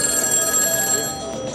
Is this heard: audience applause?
no